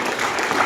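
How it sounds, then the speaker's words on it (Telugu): Audience applause at an award event, a short burst of many hands clapping together, loud and close. "సైదులు సార్ కూడా గట్టిగా ఒకసారి క్లాప్స్ ఇవ్వాలి."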